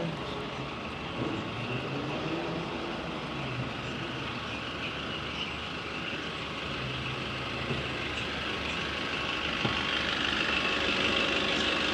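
Idling bus engines rumble steadily at a London bus station by Kings Cross, a continuous low drone that swells slightly near the end, with no talk.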